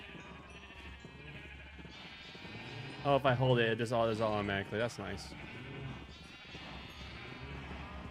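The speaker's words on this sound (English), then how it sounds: "The March of the Sheep." Minecraft sheep flock bleating in a dense, overlapping burst of cries for about two seconds, loud against steady game background sound, with a person talking before and after.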